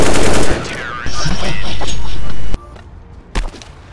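AK rifle fire in CS:GO comes close and loud as long rapid bursts that cut off abruptly, followed by a brief quieter flurry of shots a moment later.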